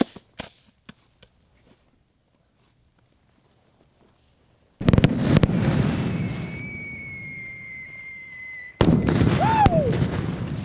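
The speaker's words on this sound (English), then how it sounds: "Then we're going to set off a couple of the GBSs, the igniters." Igniters set off during explosive ordnance disposal training: a few faint pops, then a sudden loud burst that becomes a roaring hiss, and a second sharp blast followed by more hissing and a brief whistle.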